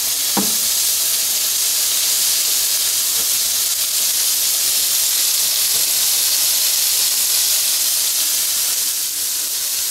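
Meat dusted with seasoning salt sears in a hot pan, giving a loud, steady, broad hiss that holds unbroken from start to finish. A single faint tap comes near the beginning, and there is no speech.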